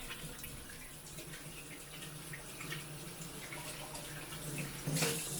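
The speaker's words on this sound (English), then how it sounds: "I'm going to quickly wash my hands" Water running steadily from a kitchen tap while hands are washed, a soft continuous splashing hiss that swells slightly, with a brighter splash near the end, no talking.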